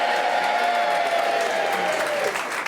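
Studio audience cheering and applauding on a game show, a dense sustained wash of claps and voices that stays loud throughout and thins out near the end.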